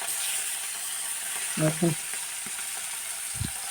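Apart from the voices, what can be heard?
fish frying in hot oil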